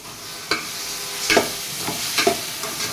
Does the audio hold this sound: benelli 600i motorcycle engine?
no